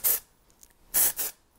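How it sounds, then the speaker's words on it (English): Texture spray misted onto short hair being styled into beachy waves, one short hissing burst followed after a pause by two more close together, near and fairly loud with no talking. "sometimes I'll give a little texture spray"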